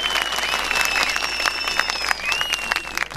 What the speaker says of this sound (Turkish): Alkışlarınızı istiyorum.